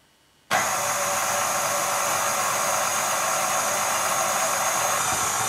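Stand mixer fitted with a dough hook switching on abruptly to knead brioche dough, then holding a steady, loud motor whir without pause for several seconds.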